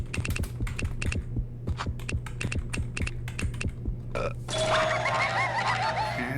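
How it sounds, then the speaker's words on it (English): Rapid typing on a computer keyboard, a dense run of close, crisp key clicks in quick bursts, followed by a brighter rattling mechanical noise near the end. "Start typing."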